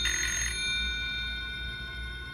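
A phone rings in a horror short film: a bright, brief ring at the very start, then a low steady hum with no speech.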